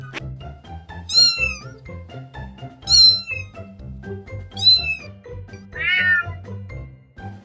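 Several cats meow in turn, four clear, drawn-out calls spaced a second or two apart, close and fairly loud over a low steady background hum.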